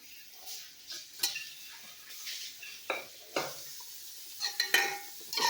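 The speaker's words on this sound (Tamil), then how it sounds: "மட்டனை நம்ம இப்போ இந்த வதக்கின விழுதோடு சேர்த்துக்கலாங்க." Mutton being stirred into a sautéed paste in a pan for Chennai-style mutton biryani, with irregular scraping and clinking strokes over a soft sizzle, close and moderately loud, no talking.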